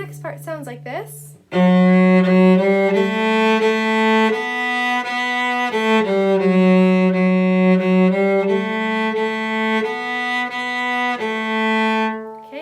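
A cello plays the next phrase of Go Tell Aunt Rhody alone. The notes are bowed and sustained in a steady, simple folk melody, heard up close after a brief spoken count-in at the start.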